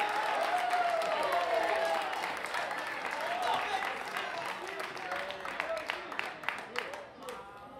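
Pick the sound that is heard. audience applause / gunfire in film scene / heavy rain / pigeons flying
audience applause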